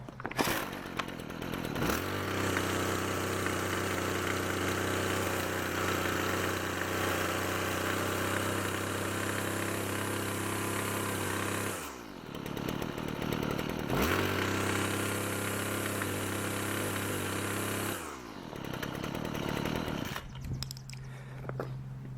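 Weed wacker two-stroke engine idling, then surging to high RPM the instant the trigger is punched, held at a loud steady whine, dropping back, then revving up again before settling to idle; close and alone.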